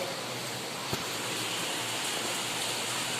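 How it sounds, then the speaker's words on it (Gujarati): Heavy monsoon rain pours down steadily at a new house, a dense, even hiss filling the whole clip with one brief sharp drip or tap standing out. "વરસાદ આવી રહ્યો છે ફૂલ વરસાદ આવે છે"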